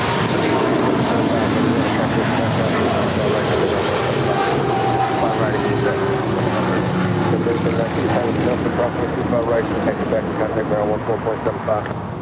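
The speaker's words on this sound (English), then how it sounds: "That is Atlas Air Flight 8027 departing to Sao Paulo. It's a 777 freighter." An Atlas Air Boeing 777 freighter departs LAX with a sustained, loud jet roar that holds steady throughout, a deep rumble with rising and falling engine tones.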